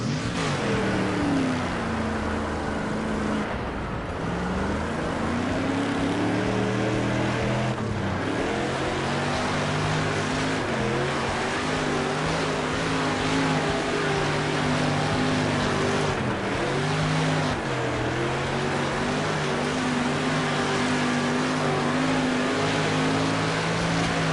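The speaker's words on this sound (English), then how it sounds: "we've got some cars coming out on the track now for a hot lap" Several street stock race cars roar around a dirt track in a racing game, engines droning steadily with rising and falling revs as they pass, loud and continuous throughout.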